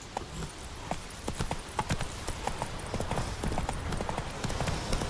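Geralt's horse Roach gallops in Witcher 3, with rapid, rhythmic hoofbeats clattering continuously and fairly close over a background rumble.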